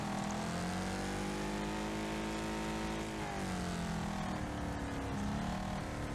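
Cars race in the video game Wreckfest on Nintendo Switch, a loud continuous roar of several engines with wavering revs and overlapping whines, dense and steady throughout without talk.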